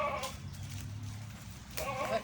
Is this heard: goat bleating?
yes